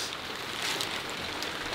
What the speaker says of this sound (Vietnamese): Thế bây giờ mà đang mưa